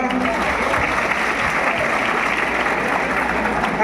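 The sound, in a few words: audience applause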